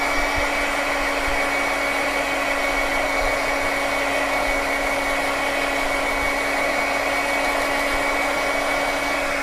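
A heat tool blows steadily to dry ink on a handmade card, a constant loud whirring hum with an even tone and no breaks, close and alone, with no talk.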